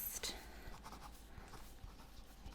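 A pen scratches notes into a notebook during a quiet medical examination role play, faint soft strokes and small taps, very close and intimate against a hushed background.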